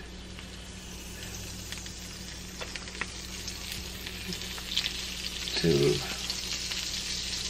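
Vegan butter melting in a hot pan gives a steady, close sizzle that swells briefly near the end, with a single short spoken word.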